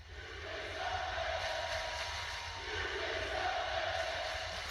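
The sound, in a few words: wrestling crowd cheering for Jay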